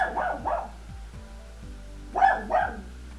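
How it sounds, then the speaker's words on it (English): A pet dog barks indoors in two short bursts of two or three barks each, separated by a quiet pause, fairly close and moderately loud with no talking. "My dog finally shut up."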